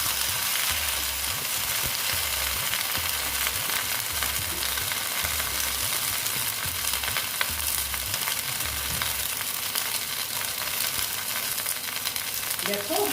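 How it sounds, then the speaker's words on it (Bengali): Okra (bhindi) frying in a pan for a lentil and okra dish, a continuous bright hiss and sizzle of hot oil with occasional stirring scrapes, close and steady with no voices. "ঢেঁড়সগুলো আমি ভালো মতন ভেজে নেব"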